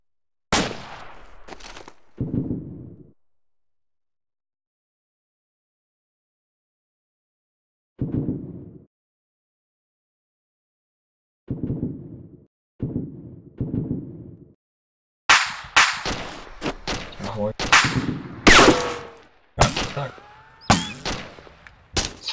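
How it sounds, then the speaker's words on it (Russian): Kalashnikov rifle fire in the ArmA 2 video game, loud sharp shots in short separated bursts, then a dense rapid volley of cracks near the end. "Это калаш, по-моему."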